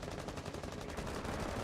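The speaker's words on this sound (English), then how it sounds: "there's some immediate gunfire going through over there" Dense, continuous gunfire from the Rainbow Six Siege video game, a loud sustained rattle of overlapping automatic shots that fills the whole moment without pause or speech.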